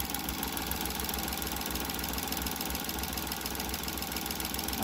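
Engine of a Suzuki DA17V minivan idling after a simple engine cleaning, a steady even hum with a faint rhythmic tick, close and constant throughout with no talking.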